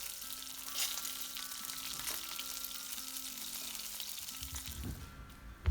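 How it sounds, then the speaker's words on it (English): Battered duck pieces fry in a thin layer of oil in a frying pan, a steady close sizzle with crackling spatters, a few louder pops, and a sharp clatter at the very end. "Have a thin layer of oil in a frying pan and then add the battered duck in small batches."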